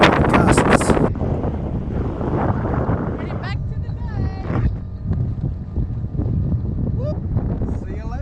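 Strong 25-knot wind with occasional 30-knot gusts battering a sailboat, a constant roaring rush into the microphone that swells in places, with a voice heard talking briefly at the start.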